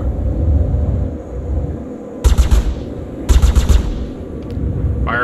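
Ship guns in the space game Star Citizen fire in two loud rapid bursts over a constant low engine hum, each volley a quick run of sharp shots.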